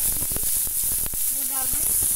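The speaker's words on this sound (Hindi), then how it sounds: "तेल गर्म हो चुका है, इसमें ये चने की दाल थी" Chana dal sizzles loudly in hot oil in a pan on a gas stove, a dense continuous crackle and hiss close up, with a faint voice in the background.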